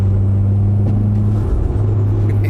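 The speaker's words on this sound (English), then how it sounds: "Turbo noises just don't get old" Mitsubishi Lancer Evolution X turbocharged engine droning at a steady idle-like tone, loud and close, with a brief whoosh of turbo noise midway and no talking.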